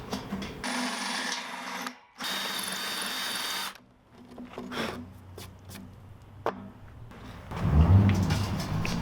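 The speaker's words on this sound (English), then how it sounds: "I'm gonna drill the rest of these." Bursts of a power drill boring more holes in metal stove legs, with short loud runs separated by pauses, clicks and handling noise, ending in a heavier rumbling stretch.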